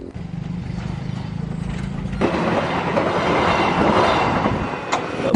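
A train passing on a railway track in Indonesia, a low rumble that builds into loud rolling wheel noise and clatter close by, heard with no talk.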